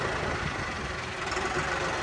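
Steady, unbroken rumble of a running Mahindra tractor engine fitted with a turbo power upgrade, idling at moderate loudness close by.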